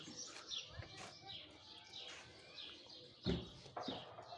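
Pigeons calling faintly outdoors, soft coos and chirps with a few brief wing flutters, fairly distant and quiet.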